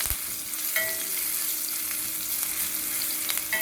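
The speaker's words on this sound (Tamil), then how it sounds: "இப்போ இது எல்லாத்தையும் நம்ம எண்ணெயிலே லைட்டாக வதக்கிக்கலாங்க" Curry leaves and crushed garlic sizzle steadily in hot oil for a lemon pickle, with a continuous close frying crackle and occasional light stirring taps, no voices.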